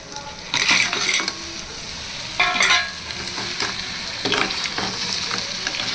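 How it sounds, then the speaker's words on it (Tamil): Crab sizzles and fries in a pan, a steady crackling hiss broken by several bursts of stirring with a utensil scraping and clinking against the pan, close and moderately loud, with no talking. "அடுத்து நம்ம க்ளீன் பண்ணி வச்சுருக்க நண்டை ஆட் பண்ணிப்போம்."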